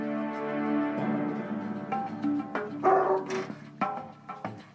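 A dog, reacting to someone approaching a window or door, makes a series of agitated vocalizations, sharp irregular barks and yips of rising intensity, close and loud, with no speech over them.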